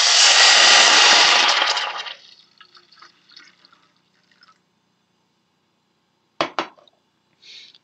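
Drinking water poured into a hot pot of toasted tea on the stove sends up a loud, sizzling hiss that fades over about two seconds, followed later by a couple of sharp metallic clinks.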